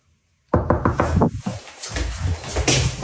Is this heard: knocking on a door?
yes